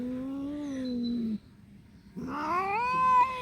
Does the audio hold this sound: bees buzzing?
no